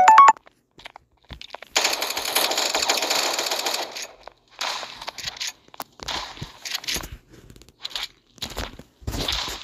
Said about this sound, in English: two people were shooting at me at once